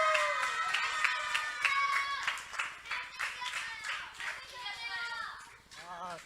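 Audience clapping to welcome a teacher at a children's Sunday church gathering, lively applause mixed with children's voices and cheering, with a brief whoop near the end.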